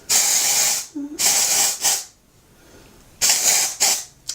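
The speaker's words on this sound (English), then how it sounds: "let's give it a little spray" Two bursts of Soap and Glory dry shampoo aerosol spraying, a harsh hiss that stops and starts, then two more bursts after a short pause, close and loud.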